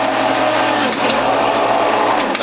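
WHF juicer motor driving a Near Zero Maxi Shredder cutter through collard greens, a loud, steady, close whirring grind with faint clicks.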